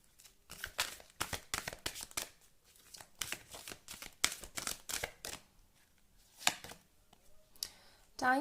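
Tarot cards shuffled in a dense run of crisp riffling bursts that pause briefly, then resume with a few scattered flicks and a slap of the deck, close up and moderately loud.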